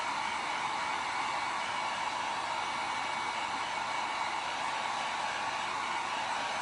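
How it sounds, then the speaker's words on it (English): Steady, continuous rush of a heat gun blowing hot air over a painted sign, a close, even hiss with no pauses or talking. "If you use a heat gun, just remember to keep it back and keep it moving"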